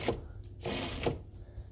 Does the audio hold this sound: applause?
no